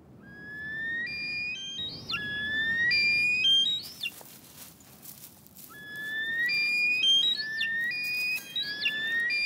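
Snowcocks in the mountains of the Lesser Caucasus call in rising series of loud, whistling notes that climb step by step and end in sharp upward swoops. Several birds answer one another repeatedly and carry far, with no voices.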